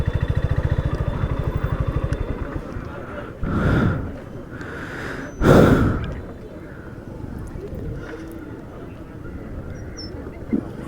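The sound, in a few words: small motorcycle riding in a driving licence test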